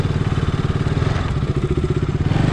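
Motorbike riding off-road in rural Assam, a close, loud engine putting along with rapid pulsing thumps and rattling clatter over rough ground.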